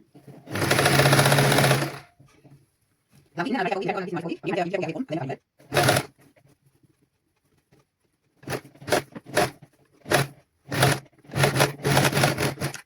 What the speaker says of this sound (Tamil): தைச்சிட்டு அதுக்கு பிறகு மடித்து தைக்க வேணும்.